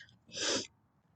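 A single sharp allergy sneeze, brief and close, bursting out of near silence.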